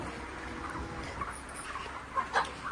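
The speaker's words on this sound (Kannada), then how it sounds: "ನೋಡಿ ನಮ್ಮ ಕೋಳಿಗಳು ಹೇಗಿದೆ ಅಂತೇಳಿ ಈ ಶೆಡ್ಡಲ್ಲಿ ಸಾವಿರದ ಎಂಟುನೂರು ಕೋಳಿಗಳು ಮರಿಗಳನ್ನ ಬಿಟ್ಟಿದ್ದೀವಿ" Chickens in a poultry shed holding about eighteen hundred young birds cluck and chirp faintly at a distance over a low steady background, with a couple of slightly louder calls near the end.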